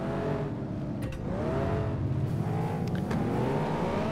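Race car engines in the Flatout: Ultimate Carnage video game on a farmland track, a pack of revving motors droning and rising together, with brief crashes or skids mixed in.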